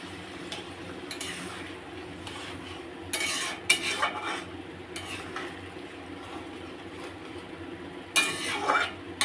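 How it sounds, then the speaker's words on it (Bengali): Hot water goes into a curry in a pan and gets stirred, with intermittent scraping and clinking of a utensil against the pan and a soft sizzle underneath. "আমি দিয়ে দিচ্ছি এর মধ্যে গরম জল, পরিমাণ মতন গরম জল দিয়ে দিলাম।"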